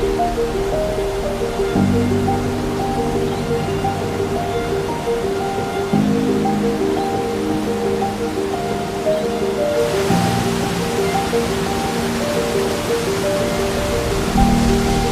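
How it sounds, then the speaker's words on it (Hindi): A forceful waterfall near Lachung, reached by a short hike from the road, roars as a steady, loud broadband rush of falling water that fills the scene without pause. "इतनी फोर्स से पानी गिर रहा है,"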